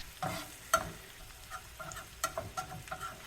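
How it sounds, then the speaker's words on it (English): A utensil scrapes the side of a pan holding a sauce for stuffed chicken, giving several short scraping and clinking strokes over a soft background sizzle, close and fairly quiet with no talking. "Just scraping off the side."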